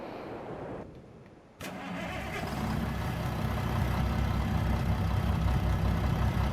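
Truck engine starting in Farming Simulator 22: a brief quiet, then the engine cranks and catches, settling into a steady, loud, low idle that holds close by for the rest of the clip.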